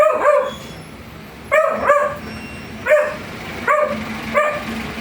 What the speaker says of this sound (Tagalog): Natahulan po ng aso.